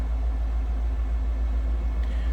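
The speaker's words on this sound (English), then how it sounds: "Slip around back so you can hear it run." A 1984 Cadillac Eldorado idles steadily with a deep, low exhaust rumble through a newer exhaust, close by and continuous, with no voices.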